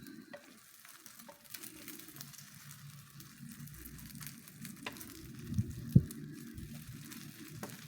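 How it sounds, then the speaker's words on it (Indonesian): Beaten egg omelette frying in hot oil in a pan, a soft continuous sizzle with a few pops and a brief scrape of a utensil, close and fairly quiet. "Goreng sampai warnanya kecoklatan atau disesuaikan saja dengan selera."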